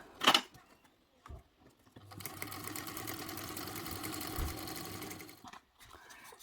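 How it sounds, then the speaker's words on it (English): A sewing machine top stitches fabric with a steady rapid mechanical whir lasting about three seconds, close and clear, preceded by a couple of brief handling clicks. "we're going to top stitch it with a 1/8 seam allowance"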